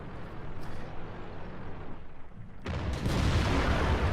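Tank cannon fire in the World of Tanks video game as a T-44 is destroyed: a dense, rumbling battle wash that bursts into a louder, broadband blast near the end, heavy and close.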